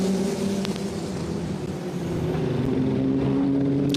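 Formula Regional European Championship race cars on the formation lap at Misano drone steadily at a distance, a continuous engine rumble with no distinct passes.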